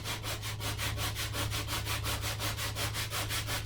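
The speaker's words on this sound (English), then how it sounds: "There's a little imperfection in the wood there, so I just take it, sandpaper," Sandpaper is rubbed back and forth over a painted wooden storage chest to distress it, giving a steady, even rasping scrape in quick regular strokes, close and alone.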